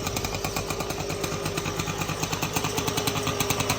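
An original moped engine running, a close, steady two-stroke putter with fast regular firing pulses that holds loud and even throughout.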